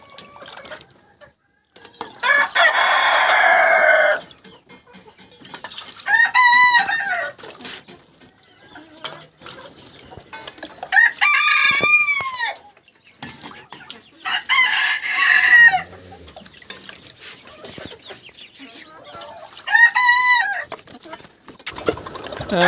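Fancy farm chickens and roosters make loud crowing calls several times, interspersed with clucking and bursts of rustling or splashing, close by, with quiet gaps between the calls.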